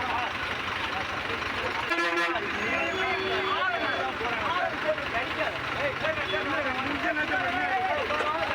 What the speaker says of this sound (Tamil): கடலூரில் தொடர்ந்து ஒலி எழுப்பி வந்த தனியார் பேருந்து ஓட்டுநரிடம் இயக்குனர் சேரன் வாக்குவாதத்தில் ஈடுபட்டார